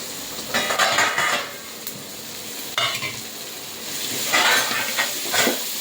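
Crushed ginger and garlic go into a hot pan and are stirred, bringing bursts of sizzling along with scraping and clinking of a spoon against the metal pan.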